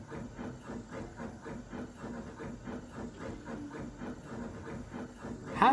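Duncan, a Thomas & Friends steam locomotive in the Trainz game, pulls away with stone trucks from a quarry: a steady, rhythmic chuffing with hissing steam that holds evenly throughout, ending in a brief louder burst.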